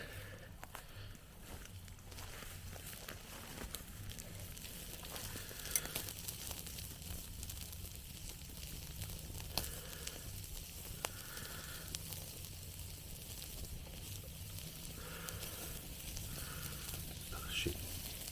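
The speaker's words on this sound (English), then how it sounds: "Yep, they're sizzling." Raw prawns cooking straight on an open campfire at a hillside camp give off a steady, faint sizzle and crackle that runs the whole time, with occasional small pops and soft handling noises.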